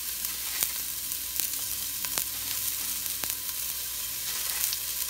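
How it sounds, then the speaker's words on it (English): Onions and minced garlic sauté in a pan for Filipino pinakbet, giving a steady, close sizzle broken by occasional sharp clicks of stirring, with no talking. "after sauteing the onions and the garlic"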